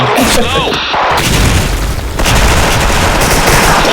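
Explosions and bursts of rapid gunfire in a shooter video game, loud and close with heavy booms, while players talk over the action.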